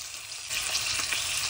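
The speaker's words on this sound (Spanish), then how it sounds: "Y mientras nuestra carne se está dorando" Pork browning in hot oil in a pan for adobo verde, a steady close sizzle that jumps in loudness partway through and then holds as a dense, even hiss.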